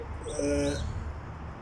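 Pet pigeons of fancy breeds give soft, close cooing calls, a short run of low throaty coos over a quiet background hum.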